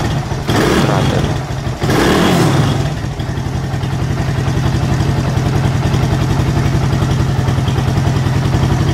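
A Athlete/Fury 125 motorcycle engine is revved hard twice as the throttle is twisted, surging loud and close, then drops back to a steady, rapid idle chug for the rest.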